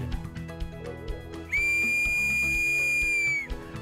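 A tour guide blows a single long, shrill whistle blast lasting about two seconds, loud and close, after a stretch of quieter rhythmic background sound.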